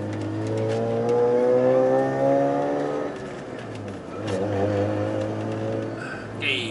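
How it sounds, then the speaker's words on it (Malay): A Mazda RX-8 driving through a town area, its engine droning steadily from inside the cabin and rising and falling in pitch, with someone talking over it. "saya memandu Mazda RX-8 di kawasan Kota Warisan ni"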